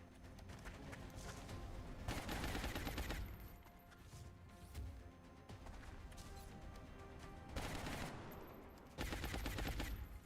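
Gunner firing in the turn-based video game XCOM Long War: loud bursts of rapid automatic gunfire come in several separate volleys, with sustained crackling shots filling the gaps between them.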